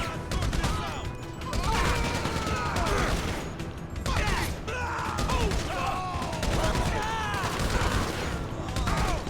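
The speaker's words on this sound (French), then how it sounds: "il y avait un minigun lui, très bien. J'ai pas mal de balles" Sustained minigun fire in the GTA 5 video game, a dense continuous roar of rapid shots with metallic clatter and impacts running throughout, loud and close.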